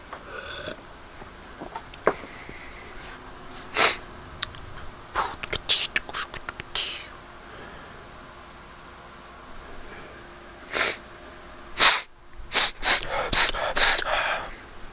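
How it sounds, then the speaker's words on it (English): Repeated short nasal sniffs and breathy snorts, close up, scattered irregularly with quiet gaps between, clustering more densely near the end. "Sorry for the sniffling."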